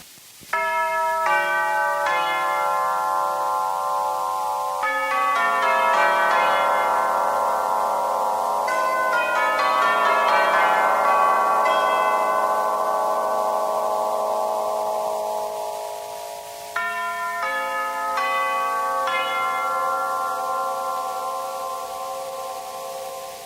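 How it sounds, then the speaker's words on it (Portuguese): Orchestral tubular bells ring a series of struck, sustained chime tones with long shimmering decays, several strikes overlapping into a dense, loud resonance before a fresh sequence of strokes near the end, heard alone without talk. "O carrilhão tubular, com seus elementos de grande formato, se aproxima mais ao som dos grandes sinos."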